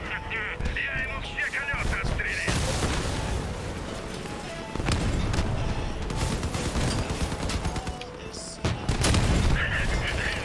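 Gunfire from armed vehicles in the online combat game Crossout, dense bursts of shots and booms crackling continuously with louder blasts near the end.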